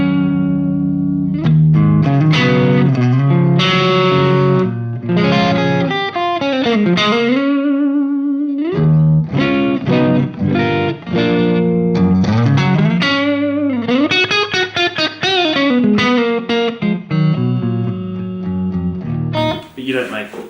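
Electric guitar played through a Headfirst-modded Marshall Origin 20 amp, ringing chords and single-note runs with a cleaned-up, lightly driven tone, effected shimmer and reverb, played continuously apart from a brief held note and pause midway.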